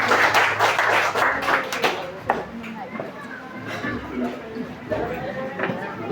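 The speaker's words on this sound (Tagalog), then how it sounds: "Isang palakpak kay Lord namin." Congregation applauding during a church service, a burst of lively clapping at the start that thins into scattered claps while voices carry on underneath.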